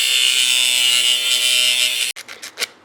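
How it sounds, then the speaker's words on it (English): A rough cut edge being sanded down during an LS engine swap, a loud steady power tool whine that stops abruptly, followed by a few short bursts of the tool. "now sand down the rough edge"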